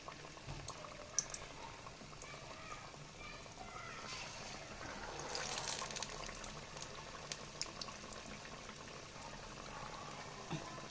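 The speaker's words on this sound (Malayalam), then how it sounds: "തിരിച്ചും മറിച്ചൊക്കെ ഇട്ട് ഫ്രൈ ചെയ്തെടുക്കുന്നുണ്ട്" Batter-coated ripe jackfruit pieces deep frying in oil make a soft, steady bubbling and frothing sound, fairly quiet and close, swelling a little midway with scattered faint pops.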